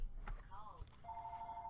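A phone rings briefly, a short electronic warble followed by a steady tone, with someone speaking beside it.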